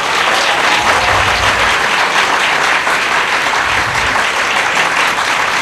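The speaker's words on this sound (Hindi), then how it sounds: "इस बात पे सबसे ऊंची ताली बज रही है।" Audience at a political speech by Maryam Nawaz breaks into loud, sustained applause, a dense steady wash of clapping that fills the whole stretch without pause.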